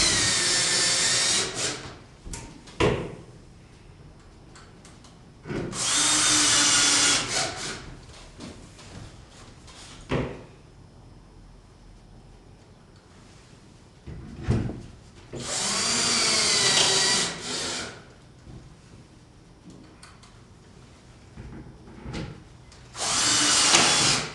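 Power drill driving screws to fasten the ends of an air-conditioner inlet during installation, several loud, close bursts of whirring separated by quiet pauses with occasional handling clicks.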